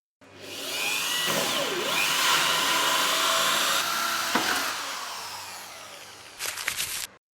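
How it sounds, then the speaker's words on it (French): A power drill with a small hole saw or wood bit whines steadily as it bores through wood, the motor pitch shifting as it cuts, then a short rattling burst before it stops. "Percez bien droit avec une mèche à bois ou une scie cloche de petit diamètre."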